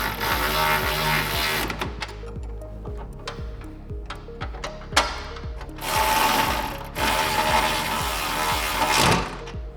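Rapid, evenly spaced mechanical clicking from a ratchet tightening strut bolts on a Kawasaki Teryx KRX, loud and close, running steadily with brief pauses and bursts of broader metallic noise.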